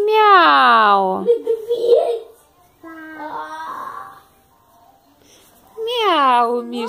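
A young child imitates a cat's meow with several drawn-out, rising and falling voiced cries, loud and close, separated by short pauses.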